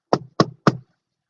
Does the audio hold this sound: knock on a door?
yes